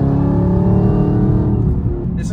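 A Chevrolet Camaro ZL1 engine roars loudly and steadily up close, climbing through a series of quick downshifts and upshifts, with the revs easing off toward the end.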